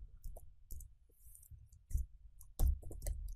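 Keys tapped on a computer keyboard, a handful of light, irregular clicks close by with quiet pauses between and a slightly firmer keystroke near the end.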